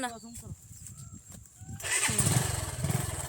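A scooter or motorbike engine starts and revs up near the microphone, rising to a loud, steady buzz during a family outing for the Varamahalakshmi festival, with people talking over it at first.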